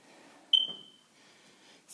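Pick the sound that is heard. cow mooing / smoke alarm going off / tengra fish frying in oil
smoke alarm going off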